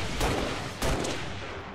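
Two loud gunshots boom in the video game XCOM 2, spaced about half a second apart, each with a heavy thud and a rolling tail under a constant rumbling game backdrop.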